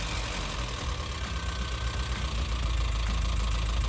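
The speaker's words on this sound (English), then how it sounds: "Oh, it's idling quite good too." A freshly rebuilt Volkswagen Vanagon engine idles steadily and close by, a continuous low rumble with a faint knocking texture and no talk over it.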